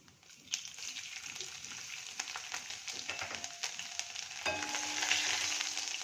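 Cumin, asafoetida and garlic hit hot oil and sizzle, a steady close crackling hiss that rises and thickens as more goes into the pan.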